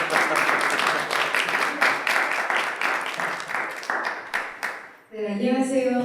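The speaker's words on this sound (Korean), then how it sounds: "환호와 박수와 갈채 부탁드리겠습니다" A church congregation welcomes a preacher with brisk, fairly close applause for about five seconds, with a few louder bursts, before it cuts off and a voice begins to speak.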